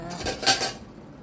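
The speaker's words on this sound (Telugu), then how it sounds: "ఇక ఇప్పుడు మూత పెడదాం" A metal lid set onto a cooking pot, a single short clatter with a light ringing tap, heard alone and close.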